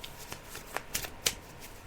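Tarot cards shuffled by hand during a psychic reading, giving a quick series of crisp riffling flicks and soft slaps, close and fairly quiet with no talking over them.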